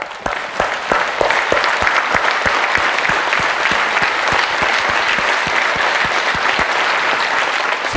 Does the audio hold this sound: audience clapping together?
yes